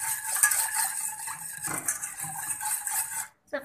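Sugar and lemon zest are mixed together in a bowl with a spoon, giving close, continuous scraping and light clinking. A short pause comes near the end.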